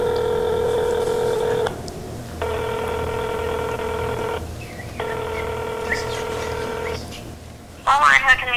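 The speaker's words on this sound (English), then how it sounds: "Is it the phone again?" Three long, steady telephone tones, each close to two seconds, play with short gaps between them over a faint background. A brief voice comes in at the very end.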